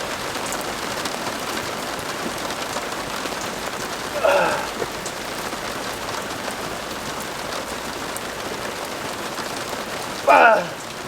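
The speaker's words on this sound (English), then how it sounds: "it's actually started to rain" Steady rain falls outdoors on a British training day, a broad continuous hiss across the whole stretch, with two brief louder bursts of other sound breaking through.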